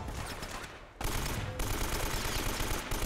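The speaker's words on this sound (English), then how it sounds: "Stop shooting the wall." Rapid automatic gunfire in Uncharted: Drake's Fortune, a steady dense burst of shots running through nearly the whole stretch and briefly dipping before resuming louder.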